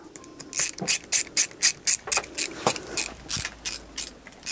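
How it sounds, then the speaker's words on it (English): A ratchet clicks in a quick, regular series of about a dozen strokes as motor screws are tightened into a gear drive motor bracket, close and clear. "you tighten them up exactly the same way without forcing them too much"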